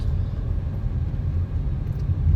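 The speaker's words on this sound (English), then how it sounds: "Helicopter." A low, steady rotor rumble of a helicopter drones throughout, distant and continuous with no voices.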